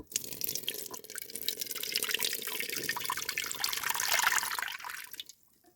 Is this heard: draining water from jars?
yes